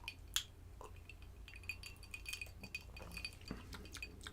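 Faint clinks of ice cubes against a glass as whiskey and Coke is stirred, scattered light taps over a quiet background.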